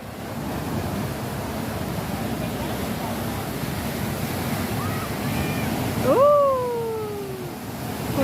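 Big ocean waves crash on a Hong Kong beach in a steady broadband roar, a heavier surge swelling near the end; voices talk over the surf.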